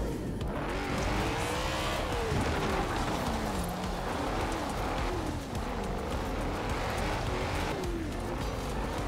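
A car driving in the racing game Forza Horizon 4, with a loud continuous engine roar that rises and falls in pitch, plus tyre noise and squeal throughout.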